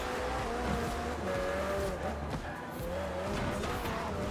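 A rear-wheel-drive car on wide 385 rear tyres in the video game Forza Horizon 4 drives with a steady, droning engine note that rises and dips with the throttle, loud and continuous, with faint tyre noise.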